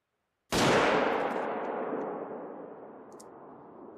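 A single loud rifle shot in theHunter: Call of the Wild, sharp onset followed by a long rolling echo that fades slowly across open terrain.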